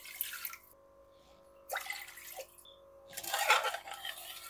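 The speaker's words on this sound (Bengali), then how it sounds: "এই কাপেরই মাপ করে 3 কাপ জল দিয়ে দেব।" Water poured into a pot to make sugar syrup for rasgulla comes as three short splashing bursts, the last one loudest, separated by quiet gaps.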